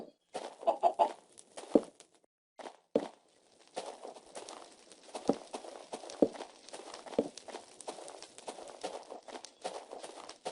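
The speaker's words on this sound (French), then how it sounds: "Ça, c'est une poule, hein, c'est pas un monstre." Soft clucking of a Minecraft chicken mixed with light footstep-like clip-clops and rustling, quiet and intermittent, with no talking.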